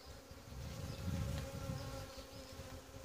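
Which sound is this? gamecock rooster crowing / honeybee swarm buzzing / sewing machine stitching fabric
honeybee swarm buzzing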